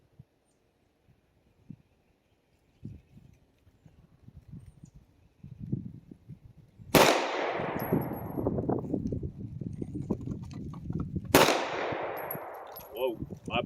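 A P320 X Compact pistol fires twice at an outdoor shooting range, each loud sharp crack followed by a long ringing decay, after several seconds of quiet handling noises and faint movement.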